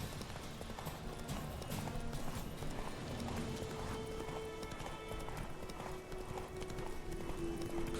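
Roach, Geralt's horse in the video game The Witcher 3, gallops with a loud, rapid, steady clip-clop of hooves, close and continuous, with a brief whinny-like tone and faint talk underneath.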